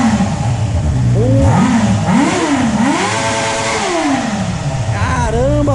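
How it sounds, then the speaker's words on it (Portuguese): A car engine fitted with a new Jescap MT03 exhaust with a four-cylinder sound revs repeatedly up and down, the pitch sweeping in loud, close bursts while someone talks over it. "Dá uma aceleradinha aqui, ó"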